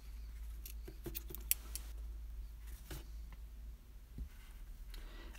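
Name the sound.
scissors cutting green yarn while crocheting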